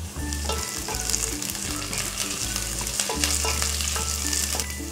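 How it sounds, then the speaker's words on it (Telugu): Chopped garlic and green chillies fry loudly in hot oil with a dense, crackling hiss. Close clatter and scraping from stirring runs through the whole clip, and a low background hum sits underneath. "వెల్లుల్లిపాయలు ఒక్క నిమిషం వేగిన తర్వాత 2-3 పచ్చిమిర్చి వేసుకోవాలి ముక్కలు చేసుకొని"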